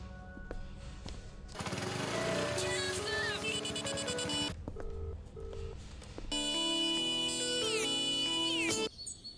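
A phone ringtone in a Hindi-dubbed film plays in two loud electronic bursts of bright, stepping tones, separated by a quieter gap with faint beeps.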